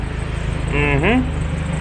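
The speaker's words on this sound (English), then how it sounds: "there she is over there idling with new BMW E36 front bumper" A BMW E36 drift car idles nearby with a steady low, even rumble, partly covered by a voice sweeping over the middle of the clip.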